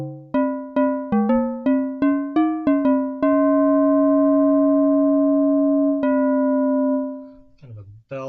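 Arturia MicroFreak synthesizer playing bright bell-like tones: a run of quick plucked notes, then one long sustained ringing note that slowly decays, followed by a brief lower note at the end.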